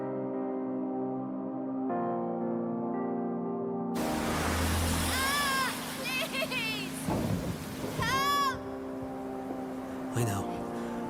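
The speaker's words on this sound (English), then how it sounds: "A major storm's heading for the coast." Thunderstorm with heavy rain in a video game trailer for a coastal lighthouse setting, with loud rolling thunder and steady rain under a music bed and occasional voice-like sounds.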